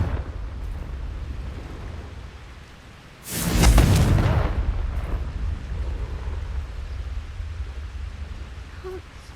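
A Confringo blasting curse goes off in the snowy setting of the Hogwarts Legacy video game: a sudden loud blast midway, then a long rumbling roar that slowly fades into wind-like noise.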